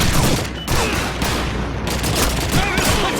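Dense bursts of rapid gunfire from Call of Duty 2, set in the North African desert of Egypt, ring out loud and nearly continuous, with brief gaps between volleys and no talking.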